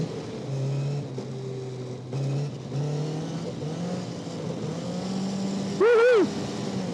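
Sports car with no ABS sliding around a slippery wet track, its engine droning steadily and rising and falling with the throttle, with a brief loud yelp of tire squeal or a high rev near the end.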